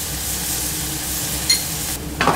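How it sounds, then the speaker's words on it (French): Chanterelle mushrooms and chopped shallots cook gently in butter in a pan, making a loud, continuous hissing sizzle that holds steady throughout, with a brief sharper spatter near the end. "On va juste les faire cuire gentiment au beurre pour pas trop les dénaturer le goût."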